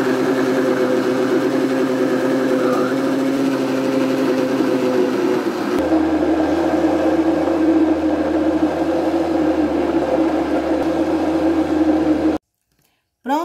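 Kitchen blender whirring as it purees cassava for a cassava and coconut milk cake, a steady loud motor drone that shifts pitch partway through as the load changes, then cuts off abruptly near the end.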